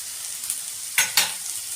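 Chopped potato and cauliflower stirred in a pan for kadhi pulao, two quick close scraping swishes with a faint sizzle between them.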